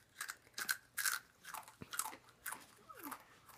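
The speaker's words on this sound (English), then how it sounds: "Chew it fast. Don't let it touch your tongue." Takis rolled tortilla chips being chewed up close, a series of sharp crunchy bites and mouth sounds at an uneven rhythm, quiet and without talk.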